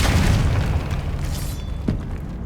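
A Confringo spell explosion in the video game Hogwarts Legacy bursts with a deep, loud boom at the start, then rumbles and decays over about two seconds, with a small pop near the end.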